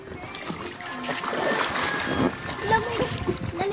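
Water splashes and sloshes in a swimming pool, with irregular bursts of movement close by while people talk over them.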